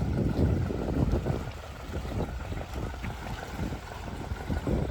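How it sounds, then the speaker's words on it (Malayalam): A boat passes on Vembanad lake, heard as a fairly faint, steady low rumble mixed with wind noise and water wash, with no talk. "ഇപ്പോൾ ഒരു ബോട്ട് ഇതിലെ പോകുന്നുണ്ട് കേട്ടോ വേമ്പനാട്ട് കായലിലേക്ക് ഒരു ബോട്ട് പോകുന്നുണ്ട്"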